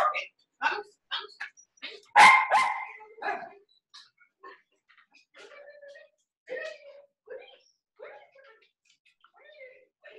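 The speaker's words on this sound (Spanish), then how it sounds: "Déjenme sacar a mis perros porque, miren, aquí tengo uno que ya se muere por salir a pasear." Several dogs at home, one eager to go out for a walk, bark and whine in short separate bursts, with a loud close bark near the start and softer whimpers and yips continuing after, without any talk.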